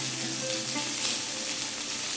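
Stuffed capsicums frying in a pan, a dense continuous sizzle that holds steady and fairly loud throughout, with no voices.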